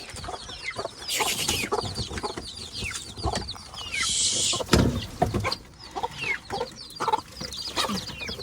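Hens and chicks cluck repeatedly in short, irregular bursts, with scattered chirps and a brief scraping noise partway through, fairly close.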